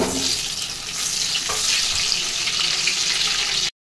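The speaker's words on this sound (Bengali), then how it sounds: "এই নুন হলুদ মাখানো ডিমগুলো আমি ভেজে নেব।" Eggs coated in salt and turmeric sizzle and crackle steadily in hot oil, a continuous bright frying hiss that stops abruptly.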